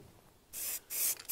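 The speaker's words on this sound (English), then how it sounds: "When a can's upside down, it doesn't get paint out. That's just the accelerant." An aerosol spray paint can held upside down to clear its nozzle, letting out close, hissing bursts: one short spray, a brief pause, then a longer blast with a quick break.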